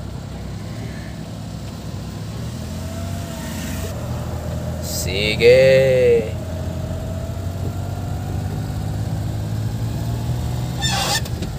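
A car engine idles steadily and evenly after a misfire repair, with a horn honking briefly midway and a short spoken word.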